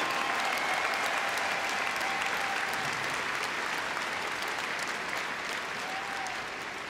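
A large arena crowd at Crufts applauds after a gundog display, sustained dense clapping that stays even and full before easing slightly toward the end.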